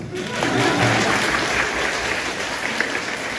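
Live audience at a Tianjin-style crosstalk show in Harbin breaking into steady, dense applause that swells early and holds at a fairly loud level, with some crowd noise mixed in.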